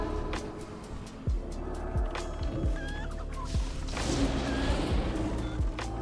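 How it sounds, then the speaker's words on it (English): A battle chicken in a Scarlet Enclave video game raid clucks and gobbles in repeated short bursts, loud and close over a busy bed of combat effects and mechanical noise. "Dude, who's rocking the battle chicken?"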